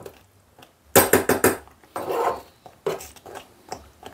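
A cooking pot and its lid clank in a kitchen while polenta is made, with a quick run of four sharp metallic knocks followed by scraping and a few more clatters, close and fairly loud.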